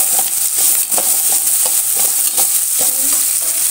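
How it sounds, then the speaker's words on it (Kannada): Masala for fresh clams fries loudly in a pan, a dense close sizzle punctuated by a rapid, uneven series of stirring scrapes and knocks, with no voices. "ಇವಾಗ ಇದನ್ನು ಚೆನ್ನಾಗಿ ಫ್ರೈ ಆಡಿಸ್ಬೇಕು. ಸ್ವಲ್ಪ ಕೆಂಪಾಗಿರೋರಿಗೆ ಫ್ರೈ ಮಾಡೋಣ."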